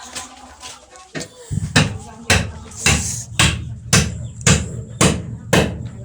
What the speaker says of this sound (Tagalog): Pinapukpok yung martilyo